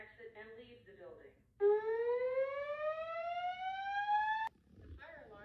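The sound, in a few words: apartment building fire alarm with voice announcement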